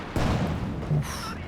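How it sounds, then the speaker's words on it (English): A grenade explosion in the strategy game Company of Heroes 2, a short heavy boom followed by a second thump, close and loud, with no talking over it. "Oh, grenade, but no dodge."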